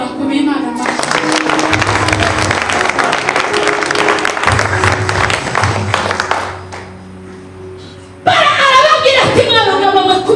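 A church congregation breaks into loud, sustained applause during a sermon, with dense clapping filling several seconds as a voice speaks over it before the clapping fades.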